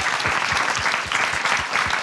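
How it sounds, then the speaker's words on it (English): An audience at a talk on building a sustainable future gives the panelists a round of applause, with close, dense clapping that holds steady for about two seconds. "if we can all give a great round of applause for our panelists here"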